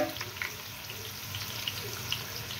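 Chopped onions going into hot oil over a high gas flame, giving a steady, close, moderately loud hiss and crackle of frying with no talk.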